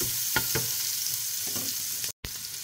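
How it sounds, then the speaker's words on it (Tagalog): Onions fry in chicken drippings with a steady close sizzle, broken by a few soft stirring scrapes and one brief dropout near the end. "lagyan na natin yung ating onion. Sa pinagprituhan natin ng chicken."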